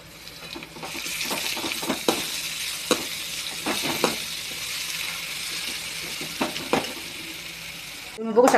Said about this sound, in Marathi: तुम्ही बघू शकता आपला कांदा आलं लसूण आता सगळं परतून झाले